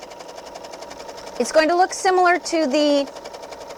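A Bernina L890 serger stitching fabric, a steady buzzing run of about two seconds that is partly masked by a person talking over it.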